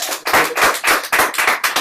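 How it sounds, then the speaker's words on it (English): A classroom group claps for a student during a Hebrew roots lesson, sharp close hand claps in an uneven rhythm of about seven quick bursts, with no talking. "Give him a hand clap."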